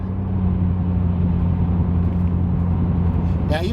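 1994 Mercedes E500 engine pulling under throttle, heard from inside the cabin as a steady, loud low drone with road rumble throughout.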